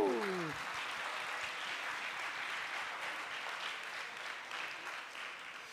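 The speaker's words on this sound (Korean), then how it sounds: "정말 박수 쳐주고 싶어요" Congregation at a youth worship service applauding the young people, a steady wash of clapping from many hands throughout, with a brief voice at the very start.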